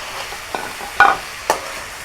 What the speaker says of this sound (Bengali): এখন আমি এখানে কয়েকটা দারুচিনি এবং সাদা এলাচ দিয়ে দিচ্ছি